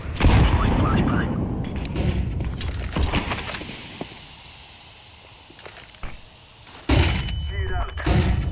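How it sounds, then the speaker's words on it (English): A flashbang grenade detonates in Counter-Strike 2 with a loud, sharp bang. Dense, close gunfire and rattling action sounds come before it, a quieter stretch follows, and another burst of loud blasts comes near the end. "Deploying flashbang."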